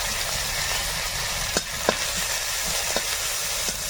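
Whole cumin seeds and ginger sizzle in a small amount of oil in a wok, a steady close hiss broken by a few sharp pops and spatters, with no talk.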